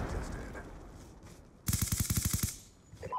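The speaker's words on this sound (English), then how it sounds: "My sentry gun is doing work in its position, which is fantastical." A sentry gun in Call of Duty: Black Ops II fires a rapid burst of roughly a dozen shots, loud and close, after a stretch of muffled game ambience, with a brief noise at the end.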